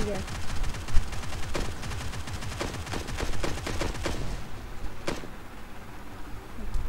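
Rapid bursts of gunfire rattle at a vehicle in PUBG Mobile, dense volleys of shots crackling close and continuous for several seconds, then thinning to a few isolated reports at the end.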